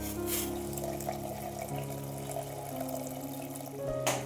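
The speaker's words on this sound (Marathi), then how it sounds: "आता आपण रशासाठी इथे हळूहळू गरम पाणी घालून घेऊया" Hot water pours steadily into a pan of egg curry, a continuous splashing trickle with a faint hum running underneath and no talking.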